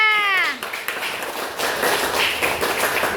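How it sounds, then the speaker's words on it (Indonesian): A classroom of students clapping for a classmate, a dense spread of overlapping claps starting after a brief high tonal squeal, moderately loud and steady to the end. "Beri tepuk tangan untuk Talita."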